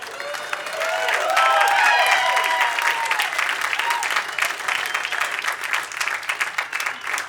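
Audience applause at a stand-up comedy special, a loud burst of clapping with some whoops and cheers that swells in the first two seconds and then holds steady without fading.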